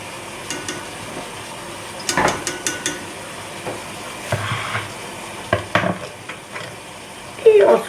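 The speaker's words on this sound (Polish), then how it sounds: "Zasmażkę musimy dokładnie rozprowadzić, mieszając, żebyśmy nie mieli grudek." A spoon stirs roux for lasagna in a pan over a quiet sizzle, with irregular scraping strokes and sharp clicks against the metal, close up, ending in a louder clatter.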